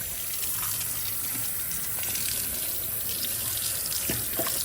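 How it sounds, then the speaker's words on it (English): Tap water runs in a steady gushing stream as an Edison Diamond Disc record is rinsed beneath it, with small splashes and shifts in the flow and no voices. "I'll give this a quick rinse."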